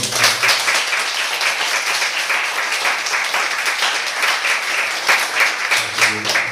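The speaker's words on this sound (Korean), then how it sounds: "우리 교사들을 위해서 우리 부목사님과 교사들 위해 박수 한번." A church congregation applauds its teachers and associate pastor, a steady, dense wash of many hands clapping that holds loud and even throughout, with a voice briefly audible beneath it.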